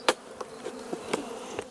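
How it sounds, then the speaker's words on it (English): A few honey bees buzzing around an opened hive during a spring honey harvest, heard as short, near, intermittent buzzes and ticks over a quiet background. "there's not many bees in here because I used those escape boards, but there's still a few"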